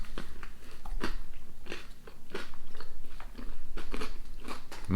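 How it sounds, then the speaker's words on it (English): Quiet, close crunching as someone bites and chews Italian candy with caramelized popcorn bits, a series of short crisp cracks spaced irregularly over steady low chewing noise. "You hear a crunch."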